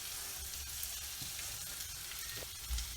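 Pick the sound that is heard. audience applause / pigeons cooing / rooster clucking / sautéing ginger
sautéing ginger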